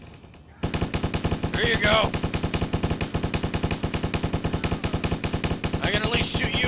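Rapid automatic gunfire from the video game Stubbs the Zombie rattles continuously and loudly in steady bursts, while a voice speaks briefly over it.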